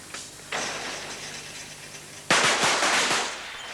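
Rifle shots ring out at a 1985 champion-of-champions shooting competition in Narrabeen, Australia: two sharp, loud cracks a couple of seconds apart, each followed by a decaying echo.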